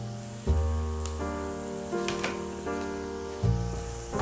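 Garlic sizzles in hot oil in a pan, a steady close crackle running the whole time, with a few louder spits and clatters of utensils over a humming background.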